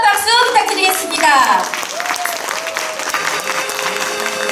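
An audience applauds loudly to welcome a singer from a volunteer song group, the clapping strongest in the first seconds and then easing under tonal voice or music.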